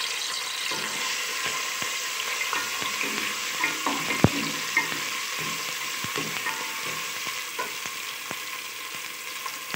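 Garlic paste sizzling and frying in about half a cup of oil in a pan for vegetable pickle, a steady loud crackling hiss with scattered sharp pops and occasional stirring clicks throughout.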